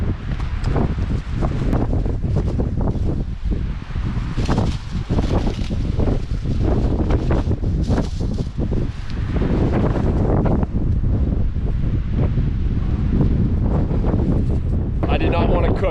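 Strong wind buffets the microphone on an exposed cliff side outdoors, a loud, continuous roaring gust with rustling throughout, steady and unbroken for the whole stretch.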